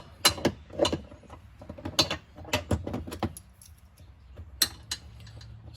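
Metallic clinks and ratcheting clicks as a wrench or socket tightens a bolt while fitting a switch panel on a 2023 Can-Am Commander, close, sharp irregular taps in short clusters.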